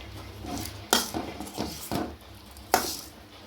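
Spoon scraping and clinking in a pan while fenugreek, cumin and salt are stirred in with garlic and curry leaves for a ladies finger curry; a few sharp metallic taps stand out over a soft, steady sizzling bed.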